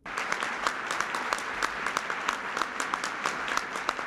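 Crowd applause at a Senate fundraiser luncheon as the President is introduced, a dense continuous clatter of many hands with a few sharper claps standing out, steady throughout and free of talk.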